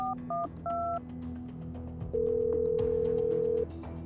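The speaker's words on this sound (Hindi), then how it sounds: "उसने डॉन को फोन लगाया।" A phone number is dialed: a quick run of dual-tone keypad beeps followed by a longer steady tone, over faint background hum.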